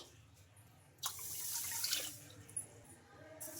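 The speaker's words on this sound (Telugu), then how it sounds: "ఇప్పుడు ఈ వాటర్ని అయితే వంపేస్తున్నా" Water splashes and pours out of a bowl of soaked finger millet in a short rush, with quieter trickling and a second splash near the end.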